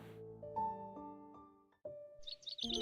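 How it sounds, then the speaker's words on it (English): Bird chirps in the video game Love and Deepspace: bright, high, quick tweets rising near the end, over sustained soft musical tones in a calm scene. "In that hazy state between sleep and being conscious, I hear birds chirping."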